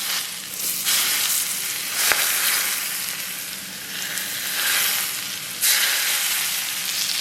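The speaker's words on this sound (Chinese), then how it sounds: "然后给上边浇上热油。" Hot oil poured over shredded blanched enoki mushrooms, a loud close sizzle that surges in waves with each pour, no voices.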